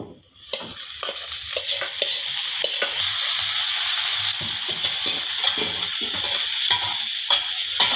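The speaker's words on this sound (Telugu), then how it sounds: "వేసుకొని ఉడికించుకున్న క్యాలీఫ్లవర్ ఇందులో వేసుకోవాలి." Boiled cauliflower is stir-fried with onion, chilli powder and ground coriander in a pan, giving a steady close sizzle with repeated scraping stirs and no talk.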